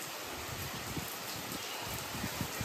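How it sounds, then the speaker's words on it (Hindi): Rain finally arrives at a home during hot weather, a soft, steady hiss of drops with faint low patter, even and unbroken from start to finish with no voices over it. "तो अब जाके फाइनली बारिश भी आ गई है"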